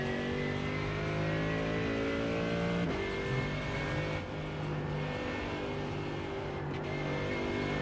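A GT3 race car in a racing video game revs through the gears at the Nürburgring, a sustained high engine whine rising and dropping with shifts, fairly quiet and steady throughout.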